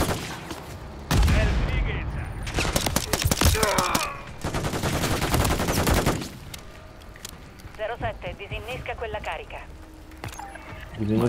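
Turret gunfire in a Call of Duty match, loud sustained bursts of automatic fire in two long stretches, then a quieter stretch with a voice talking over the game audio.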